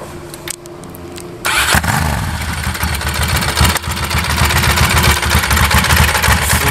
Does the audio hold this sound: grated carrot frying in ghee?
no